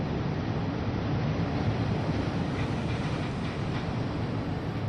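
A long freight train in the Train Sim World 6 game rumbles along out of Crewe, a steady, broad, continuous roar of engine and wagons with no talking.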